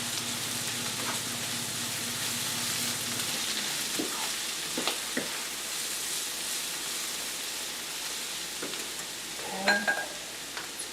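Seasoned stuffed pepper casserole mixture sizzles steadily in a pan while it is stirred, with soft scraping and a few light clinks of the utensil toward the end and no voices.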